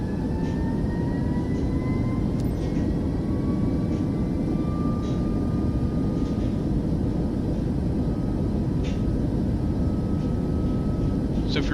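Airliner on its takeoff roll at takeoff power in Microsoft Flight Simulator 2024, a loud steady engine roar with a rising whine that holds throughout. A voice talks faintly over it.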